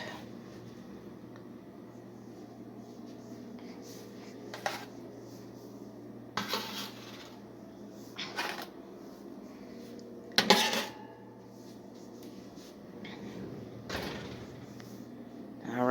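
Small metal baking pans are handled in a home kitchen while roasting dandelions, giving several scattered clanks and scrapes over a quiet background, with a louder metallic clatter partway through.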